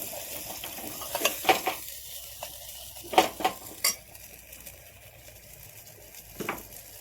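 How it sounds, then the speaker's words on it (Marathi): Raw onion sautés in oil and masala for stuffed brinjal, a low sizzle broken by sharp clinks and scrapes of a spoon against the pot, in irregular bursts, with no talking. "कच्चा कांदा मस्त परतून घेऊ तेलात मसाल्यात."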